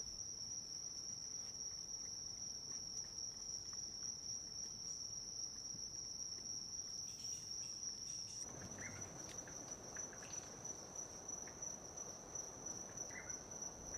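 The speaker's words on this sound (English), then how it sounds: "Other fascinating creatures found in the forest, if one looks hard enough, are insects of various shapes and colors." Forest insects in Central America chirp in a steady, dense, high-pitched trill that runs unbroken throughout, with a soft rustling wash of background ambience thickening in the second half.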